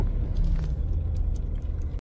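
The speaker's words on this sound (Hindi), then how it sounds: "यहाँ पे लग गया है जाम।" Cars stuck in a traffic jam on a mountain highway between Manali and Jaipur, heard as a steady close low rumble of engines with faint clinks, ending abruptly.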